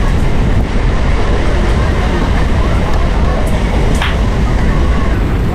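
A passenger train on the Sealdah to Gede line runs through heavy rain, a loud, dense, continuous roar of wheels and downpour heard from inside the carriage with no break.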